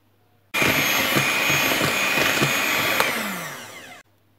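An electric hand mixer whirs steadily at close range, beating curd cake batter with eggs and cottage cheese, giving a continuous high-pitched motor whine with faint scraping ticks for about three and a half seconds before switching off.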